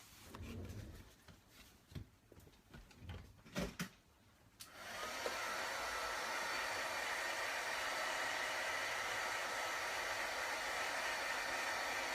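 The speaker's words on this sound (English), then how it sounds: "grab my heat tool real quick and give those a dry" A handheld heat tool blasts steadily while drying craft pieces, a loud continuous whooshing hum starting a few seconds in after some light handling and rustling noises.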